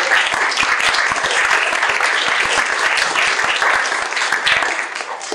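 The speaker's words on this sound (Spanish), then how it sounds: "Así que un aplauso," A large audience at an anthropology museum talk applauds museum workers in loud, dense, sustained clapping that holds steady and then softens slightly toward the end.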